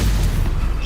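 A stunning spell fires in a Harry Potter video game as one short, loud booming burst with deep low-end thump, filling the brief moment.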